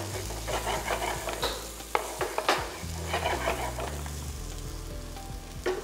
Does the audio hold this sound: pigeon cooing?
no